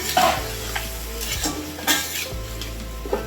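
A spoon scrapes and stirs papaya curry in a metal pan, with irregular clanks and scrapes over a faint sizzle, close and fairly quiet with no talking.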